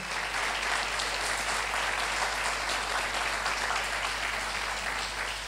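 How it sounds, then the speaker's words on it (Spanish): A church congregation claps steadily as an offering of praise to God, a dense, even wash of applause that holds at full strength from start to finish with no voices over it. "Denle una ofrenda de aplauso a ese Dios todopoderoso."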